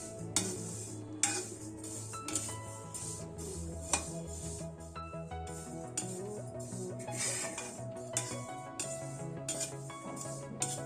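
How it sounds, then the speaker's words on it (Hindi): Sesame seeds roasting in a kadhai over a medium gas flame, giving a steady crackle and sizzle with frequent small clinks and scrapes of a utensil stirring against the pan, with no voices. "कढ़ाई में तिल डाल देते हैं।"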